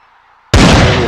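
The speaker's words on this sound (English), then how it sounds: "That's a cannon." A cannon fires during a football game, one sudden loud deep boom that cuts in after near silence and rumbles on heavily to the end.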